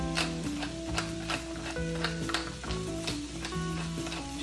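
Bell peppers and onions sizzling in a pan for Los Angeles style street hot dogs, a steady close crackle with occasional stirring clicks and no talking.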